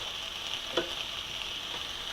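Broccoli slaw cooking in a pan, a soft, steady sizzle at low level with one faint tap near the middle, no voices.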